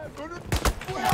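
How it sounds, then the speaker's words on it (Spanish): A sharp gunshot bursts out midway in the video game Battlefield 1, followed by a few more loud cracks and mortar booms under excited talking. "He oído un disparo por aquí cerca."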